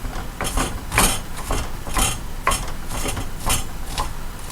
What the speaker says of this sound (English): major thing to cutting onion. Square it. Then chop.